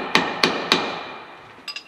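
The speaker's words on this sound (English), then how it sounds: "Everything's a hammer when you need a hammer." Three sharp metal hammer strikes on a semi truck part during a repair, evenly spaced and close, followed by two lighter taps after a short pause.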